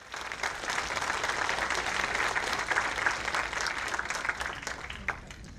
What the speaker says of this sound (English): let's give the FSIN a big round of applause as well